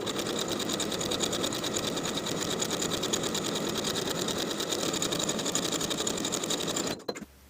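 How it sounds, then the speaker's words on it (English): A sewing machine stitches along the edges of a skirt flounce, running steadily and close for about seven seconds before stopping abruptly. "I'm going to sew along my finishing stitches on the inside from one side of the flounce all the way around to the other side."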